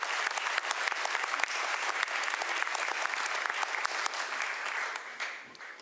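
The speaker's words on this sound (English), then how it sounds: "Can we have another round of applause for the St. Andrew's Episcopal Jazz Pop Ensemble?" Sustained audience applause at a city State of the City address after a school jazz pop ensemble performs, dense and steady clapping from a sizeable crowd that thins and fades out near the end.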